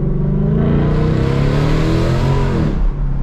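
A 2022 Ford Mustang GT V8 with its sound tube deleted revs loudly and close, a deep, steady roar that builds and then drops off near the end.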